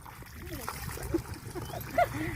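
Water gushes and splashes steadily from the outlet of a farm pump motor in an orchard, a continuous close spatter under people talking and laughing.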